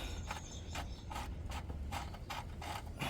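A nut is undone with a ratchet during work on a 1.4 HDI engine's particulate filter, giving a steady run of close, crisp clicks at an even rhythm, heard alone with no talk.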